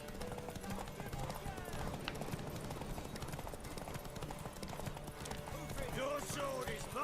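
Horse hooves clip-clop at a steady trot in The Witcher 3, continuous and fairly close, mixed with game ambience and voices talking.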